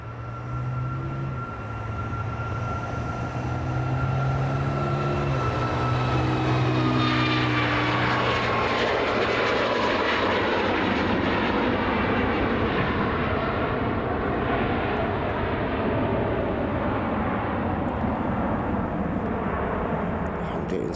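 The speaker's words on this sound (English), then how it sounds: "this Boeing 737 MAX operated by Ryanair." Ryanair Boeing 737 MAX jet at Dublin Airport, engines spooling from a whining tone into a loud, sustained roar as it powers up and passes, near and continuous throughout, with a person talking early on.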